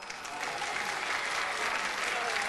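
A studio audience on the game show Card Sharks breaks into applause, a dense clapping swell that rises quickly and holds steady and loud.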